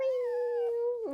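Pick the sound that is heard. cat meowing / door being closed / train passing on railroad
cat meowing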